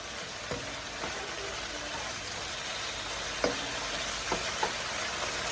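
Pasta primavera sizzles steadily in a pan at home, a soft continuous fry with a few light clanks and scrapes as it is tossed, fairly quiet with no talking.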